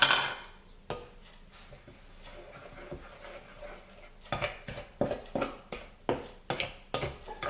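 Dry ingredients for an apple cinnamon tray bake being stirred together in a bowl, a run of quiet scraping followed by a steady series of sharp, regular utensil clinks against the bowl, close up.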